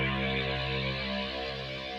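Sustained synth sweep in an electronic music track, a rich harmonic tone slowly shifting in brightness over two seconds, steady and fairly loud with no voices.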